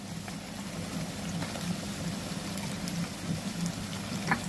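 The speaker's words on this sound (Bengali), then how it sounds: "এইবার আমি এর উপরে মাংসগুলো তুলে দেব।" Meat fries in a pan with chopped ginger for a Bengali curry. A dense, even crackling sizzle runs close and steady, like light rain, over a low hum, with no talking.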